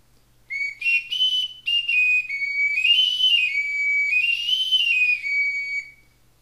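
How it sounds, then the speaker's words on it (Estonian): An oak wood whistle oiled with hemp oil is played in several clear, high tones, first short separate blasts and then longer sustained notes with slight bends, bright and close. "Pildil olev vile on tehtud tammepuust ja ka üle õlitatud kanepiõliga."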